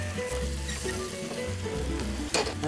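Food sizzles and fries steadily in a pan while being stirred, a dense continuous crackle with occasional scraping, close and loud with no talking.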